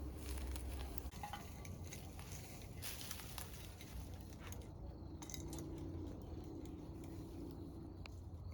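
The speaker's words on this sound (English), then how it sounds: "A roast pigeon sizzling on a stick." Roast pigeon sizzling on a stick, a soft continuous crackle and hiss of frying with occasional faint clinks in the background.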